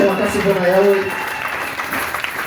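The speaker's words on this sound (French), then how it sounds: "Applaudissons fort pour l'Éternel." A church congregation applauds loudly for the Lord; a voice speaks briefly at the start, then steady, dense clapping fills the room.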